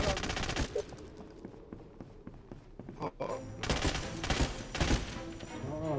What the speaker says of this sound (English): I love machine gun, man.